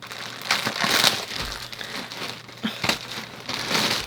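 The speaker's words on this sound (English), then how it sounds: "that plastic bag was a lot tougher than I thought it was going to be" Plastic packaging around fabric bundles crinkles and crackles in a dense close-up burst, with a few sharper rustling peaks and a tough tear-like crunch as it is worked open.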